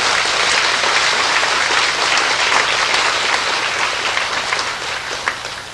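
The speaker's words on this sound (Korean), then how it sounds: "박수로 감사를 표시해 주시기 바랍니다" Loud, dense applause from a large congregation of about 1,500 people at a church inauguration service for a new president, sustained and even throughout and easing slightly at the end, with no voices over it.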